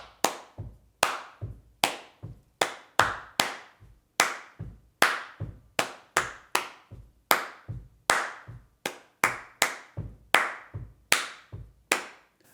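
Bare hands clap a syncopated riff, sharp close claps in an uneven, off-beat pattern that repeats steadily for several bars with nothing else heard.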